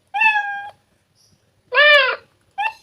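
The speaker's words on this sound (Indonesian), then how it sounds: "Itu cara mencari suara ya, efek suara dari kucing itu." Three cat meows, two longer and drawn out with a short one at the end, clear and close with quiet gaps between.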